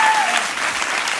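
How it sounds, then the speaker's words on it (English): A dance class applauds with a short burst of steady, dense clapping, close and loud, and no voices over it. "I want to clap for you guys because it's just class and people don't understand."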